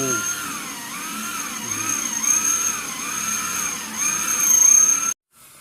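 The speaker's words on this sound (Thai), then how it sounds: "เริ่มใช้สว่านเจาะรู" An electric drill bores holes in a kitchen, giving a whining motor tone that rises and dips in repeated surges before cutting off abruptly near the end.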